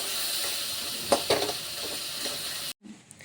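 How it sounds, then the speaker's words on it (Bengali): Chopped tomatoes fry in a little oil over very low heat, stirred with salt, sugar and turmeric, giving a steady close sizzle with a few scraping stirs before it abruptly stops. "আন্দাজ মতো তেলে একদম কম আঁচে ফোড়ন দিয়ে কেটে রাখা টমেটোগুলো দিয়ে দিলাম।"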